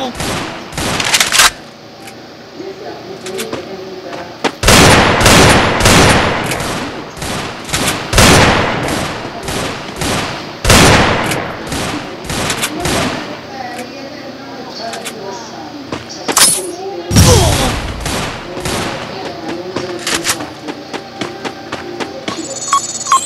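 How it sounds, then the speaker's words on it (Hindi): Bursts of gunfire and explosions in the Free Fire battle game ring out as repeated loud volleys and blasts across the whole stretch, with a player talking over the action. "वो खाली बम चलाई जा रहा है।"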